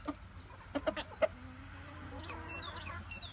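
Backyard chickens in South Jersey cluck in a few short, close bursts near the start, then a steady outdoor murmur of the flock continues with faint bird calls.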